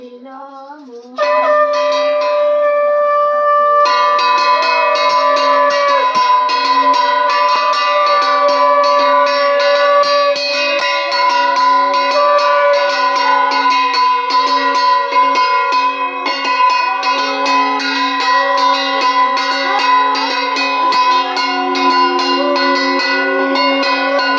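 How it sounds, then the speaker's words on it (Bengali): Hand bell rung continuously during a Hindu aarti worship, loud and close with a dense, shimmering metallic ring that carries on without pause, no voices. "ঘন্টা বাজাও, শাঁখ বাজাও।"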